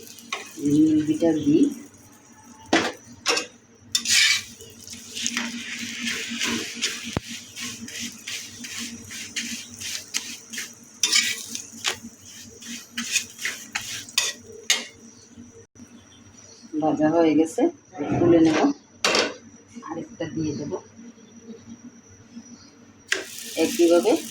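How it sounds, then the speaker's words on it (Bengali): A potato paratha fries in ghee on a pan, with intermittent sizzling and spatula scraping. Speech is heard throughout. "বন্ধুরা রুটিটা আমি হালকাভাবে ভেজে নিয়েছি এবার ঘি দিয়ে বাকিটুক ভেজে নেব আমি"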